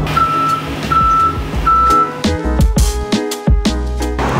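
Repeated reversing-style beeps ring from a city bus at a snowy stop, followed by heavy engine rumble and air-brake hiss as it moves off, loud and close.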